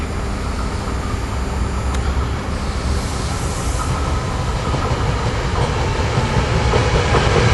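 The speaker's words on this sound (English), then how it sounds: "Coming through Paoli here is a Septa train." A SEPTA commuter passenger train rumbles past loudly and steadily through Paoli at rush hour, wheels clacking on the rails with a broad, continuous roar.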